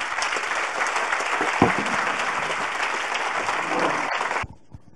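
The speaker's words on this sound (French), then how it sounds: "Thierry Marx, mesdames, messieurs, que je vous demande d'applaudir" Audience applause for chef Thierry Marx at a corporate HR congress, a dense sustained round of clapping from a large crowd that carries on steadily before stopping abruptly near the end.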